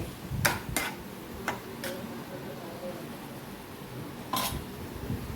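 A utensil clinks and scrapes against a pan as tomato and ginger-garlic paste are stirred together, with several sharp taps over a low background hum.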